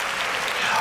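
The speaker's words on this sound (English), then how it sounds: "The people of the town are applauding you." Townspeople applauding in the Uncharted Destiny game: a dense, steady wash of crowd clapping, loud and continuous through the brief moment.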